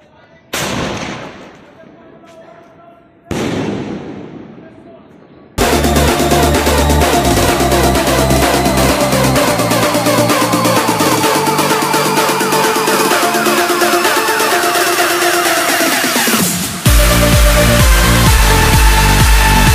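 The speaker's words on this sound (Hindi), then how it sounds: "सबसे पहले जलाते हैं सुप्रीम फाइबर के लॉलीपॉप स्काई शॉट को।" A Supreme Fiber Lollipop sky shot firework: two short fizzing bursts as the fuse is lit, then a long, loud, continuous roar of rapid crackling and booming shots that shifts in tone near the end.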